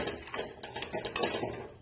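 Mango pieces stirred through a chili and turmeric spice mixture in a pan, a spoon scraping and clinking against the metal in quick, irregular strokes, close and alone.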